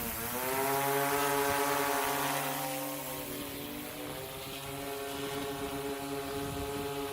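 DJI Matrice 200 drone with its motors spun up, a steady nearby whine of propellers and rising harmonic tones holding level without a break, with no talking.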